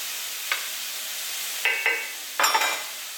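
Corn for stuffed peppers sizzles faintly in a hot pan over high heat, with a few short scraping stirs breaking through the steady soft hiss.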